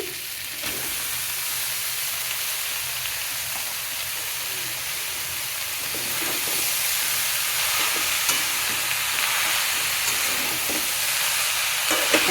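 Banana flower hits a hot pan and sizzles into a loud, steady hiss that swells partway through and then keeps a bright, continuous crackle, with no talking.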